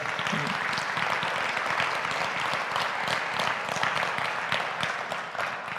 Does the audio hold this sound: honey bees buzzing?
no